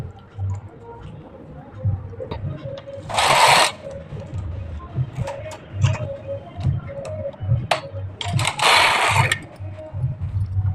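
A hand-operated knitting machine knits a half-sleeve sweater, its carriage rattling and clicking in a steady mechanical churn with two louder hissing sweeps, close by and alone.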